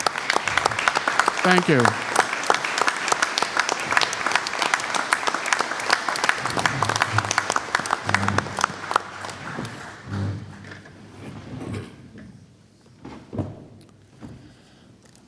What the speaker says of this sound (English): How about a big long round of applause for